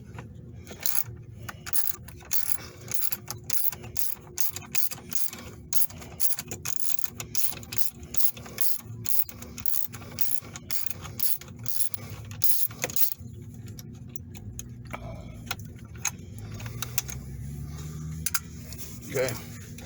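A ratchet wrench unscrews an 8mm bolt on a Jeep during a backup camera repair, giving a long run of rapid, steady clicks close up. The clicking pauses briefly, then a few looser mechanical rattles follow.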